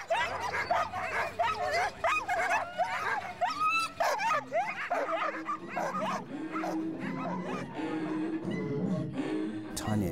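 Sled dogs in Nunavut bark, yip and whimper excitedly in a busy chorus, close and continuous, with voices mixed in.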